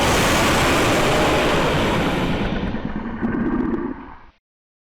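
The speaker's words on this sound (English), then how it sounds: "Another designed dragon roar." A designed dragon roar sound effect, built for a dragon battle scene: a loud, dense, rumbling roar with a broad gritty texture that holds steady for about four seconds before cutting off abruptly.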